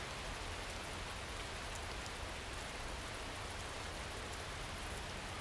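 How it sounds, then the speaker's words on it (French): Steady rain pours down in a continuous broadband hiss, constant and enveloping with no voices. "Tu entends le bruit de la pluie?"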